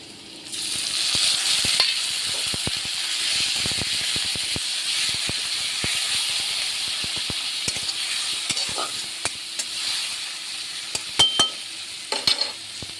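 Onions and cumin frying in a pan during cooking of an egg curry give a constant hiss and sizzle, with scattered clicks and scraping stirs, louder bursts near the end, and no voices.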